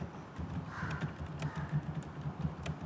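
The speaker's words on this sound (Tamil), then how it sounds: "அப்படின்னு நான் சும்மா உங்களுக்கு டைப் பண்ணுறேன்." Fast, steady tapping of keys on a computer keyboard, quiet and close, with a soft room hum beneath and no talking.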